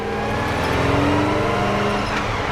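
A 1957 Chevy 150 engine drones steadily while the clutch is slipped during a ride, a continuous, fairly loud engine hum with a shifting pitch and no talking.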